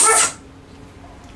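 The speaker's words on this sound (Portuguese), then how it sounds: "esses são meus cachorros que estão aqui em cima" A dog up above gives one short, sharp bark that cuts off after a moment, leaving quiet room noise.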